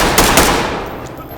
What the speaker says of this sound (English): Copy the shots fired.